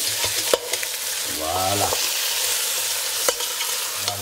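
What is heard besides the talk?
chicken stirred and frying in a pan with golden onions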